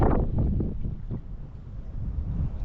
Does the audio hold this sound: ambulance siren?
no